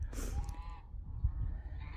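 Geese honking nearby in a short cluster of harsh nasal calls, a few overlapping honks rising and falling at moderate loudness, alone without speech.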